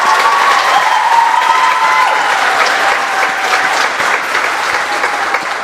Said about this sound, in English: one more round of applause for Mr. Adams real quick.